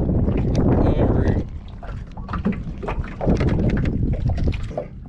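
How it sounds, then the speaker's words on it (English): Wind buffets a microphone outdoors on a fishing boat, a loud, rough rumble that gusts and eases, with faint splashes and knocks underneath and no talk. "the wind blowing perfect"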